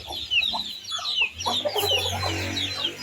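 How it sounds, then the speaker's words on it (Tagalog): Chickens and chicks on a farm clucking, with repeated high chick peeps over lower hen clucks and a short low cluck run, fairly close and continuous. "Ang dami nilang sisiw."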